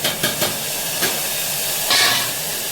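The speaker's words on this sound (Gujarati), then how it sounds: "ને આજ તો ગુવારનું શાક બનાવવાનું છે, એ શાકનો વઘાર કરી નાખ્યો" Cluster bean curry tempering sizzles in hot oil in a home kitchen, a steady broadband hiss with a few brief pops and a louder surge of spitting near the end, heard alone without talk.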